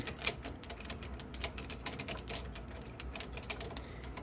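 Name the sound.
screwing down the Bixpy universal kayak adapter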